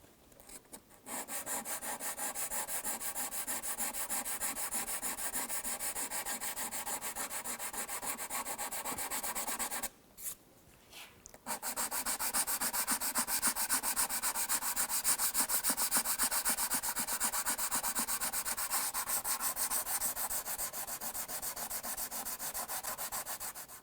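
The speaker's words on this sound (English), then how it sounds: "You want to keep sanding until that's gone." Steady, rhythmic hand sanding of a guitar finish with a hard Corian block rasps back and forth, with a brief pause midway before the scraping strokes resume, close and alone.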